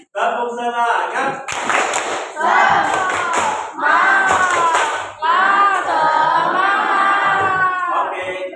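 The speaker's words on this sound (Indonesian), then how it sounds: "Sekali lagi. Tepuk semangat" Schoolchildren perform the 'tepuk semangat' clap chant a second time in class, loud unison shouting broken by bursts of rhythmic group clapping that stop and restart several times.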